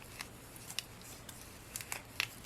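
Backing is peeled off Cricut vinyl with transfer tape on top, giving faint, short crinkly crackles and ticks in a few scattered bursts over a quiet room.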